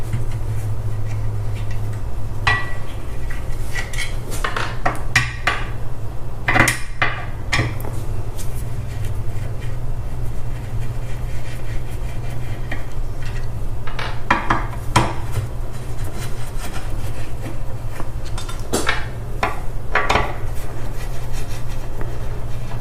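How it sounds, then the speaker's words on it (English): Metal bolts come out of a TV wall mount laid flat on the floor, heard as scattered metallic clinks, scrapes and taps over a steady low background hum. "With the mount laying flat on the floor, you'll take the 3 bolts out on the bottom and 3 on the top,"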